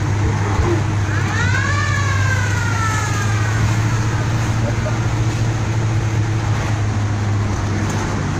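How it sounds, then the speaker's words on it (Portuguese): A police car siren wails in a rising and falling sweep behind a steady low car engine drone, heard from inside a 1955 Ford Customline with a Y-block 312 V8 on the road. "Acho que estou sendo seguido por um carro de polícia."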